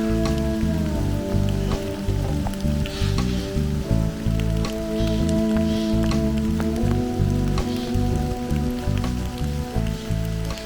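Steady rain patters on leaves and surfaces in an autumn forest, a dense continuous wash of drops at close range with no voices.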